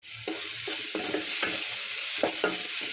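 Chopped coriander fries in a pan for coriander rice, giving a steady, close sizzle. Soft stirring scrapes come through it every so often, and no one speaks.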